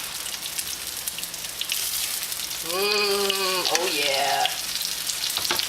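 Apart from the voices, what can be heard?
breaded chicken Milanese frying in a pan after flipping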